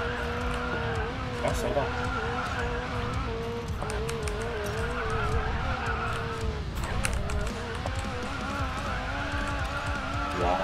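A McLaren 570S drifts through a racing video game, its engine roaring steadily with squealing, skidding tyres throughout, while people talk over the gameplay.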